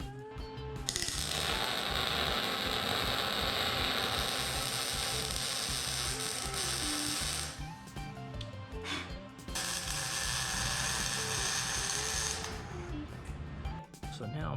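Ratchet turning as tabs are bolted onto a mini bike frame in a garage, a steady stream of close, loud clicking that runs for several seconds, pauses briefly, then resumes, with some background noise underneath.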